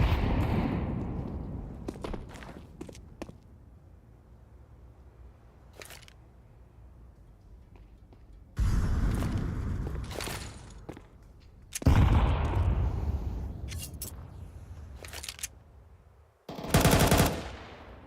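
Desert Eagle pistol gunfire in Counter-Strike during a professional match: several sharp, separate shots early on, then louder bursts of gunfire in three clustered bouts later, with quieter spells between.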